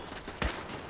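A single turret shot bursts out in Fallout 4, one sharp loud crack with a short decay over a steady low game background.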